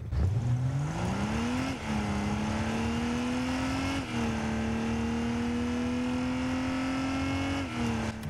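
In the game Rocket League, a BMW M240i engine revs up, then holds a steady, buzzy drone that climbs in pitch through several gear shifts, each with a brief dip, with no voices.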